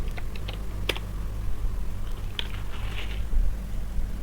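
Soft, quick keystrokes on a computer keyboard tap in short bursts over a steady low hum, close and fairly quiet, with no voices.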